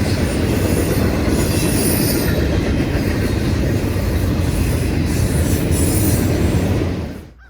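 A freight train, a manifest led by a Norfolk Southern locomotive, rumbles past close by in Mississippi with a continuous roar of wheels and some metallic squealing, fading out at the very end.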